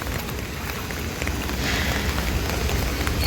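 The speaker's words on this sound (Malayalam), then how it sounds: "നിൽക്കാത്ത മഴയാണ്" Steady rainfall patters continuously on a surface, a dense hiss of drops that grows slightly heavier partway through.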